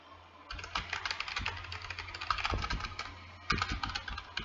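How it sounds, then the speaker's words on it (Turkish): Rapid, uneven keystrokes clatter on a computer keyboard nearby, with short pauses between bursts of typing. "Kesin şu anda klavye sesi çok çıkıyor"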